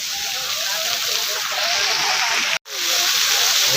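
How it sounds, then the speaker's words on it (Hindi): A water fountain at night in Lusail City, Qatar, gives off a steady rushing splash of falling spray, loud and close, broken by one brief silent gap. "यह पूरा पानी का फुहारा है"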